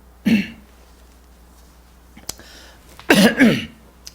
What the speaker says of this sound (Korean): 꼭 설교만 하려고 하면 이렇게 또 기침이 나오는 것 같아요